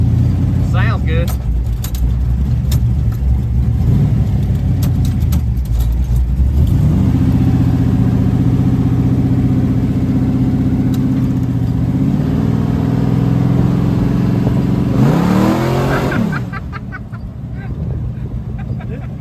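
A rat rod car with a 1948 Ford front end idles and revs up close, its engine rising and falling in a few throttle blips over a steady rumble, with people talking nearby.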